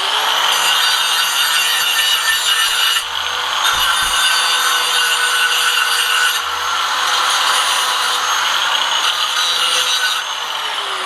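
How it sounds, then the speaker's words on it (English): Bench grinder sharpening a homemade carbide parting tool for woodturning, a loud steady hissing grind in several long passes separated by brief gaps. "I'm just going to give it a quick brush up with the grinder here."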